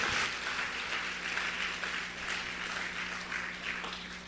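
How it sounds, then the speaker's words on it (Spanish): Church congregation applauding during a Spanish-language service, a dense, sustained wash of many hands clapping at a moderate distance, without a pause. "dale más fuerte ese aplauso a Jesús"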